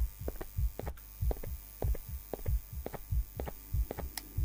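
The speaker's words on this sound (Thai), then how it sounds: "เสียงหัวใจก็เต้นรัว ๆ" A pounding heartbeat thumps steadily in the horror walking game Late Night Wanderer, about two beats per second, low and even, with no voices.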